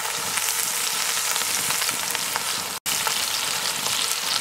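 A leg of lamb sears in hot fat in a Dutch oven with a loud, dense, continuous sizzle and crackle that stays close and steady throughout. There is one brief cut near the end.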